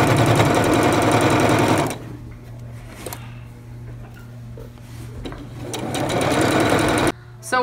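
A sewing machine stitches a pillowcase seam in loud, steady bursts, first for about two seconds, then quieter with soft handling noises, then running hard again before a brief stop and restart.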